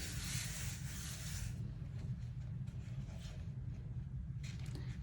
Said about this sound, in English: I'm just going to smooth it over with my hand, making sure to rub all over that gel printing plate.